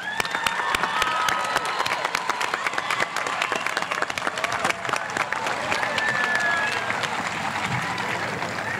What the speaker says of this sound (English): Big round of applause for our graduates.